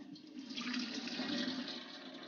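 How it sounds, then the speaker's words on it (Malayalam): Tapioca cooking water is poured off into a vessel in a continuous gushing, splashing stream that swells and holds for about two seconds before easing off. "വെള്ളം ഊറ്റിയെടുക്കണേ"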